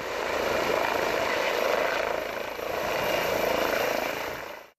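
An ambulance helicopter flying in to land in a farm field, its steady loud rotor and engine roar filling the whole stretch with a brief dip midway before cutting off.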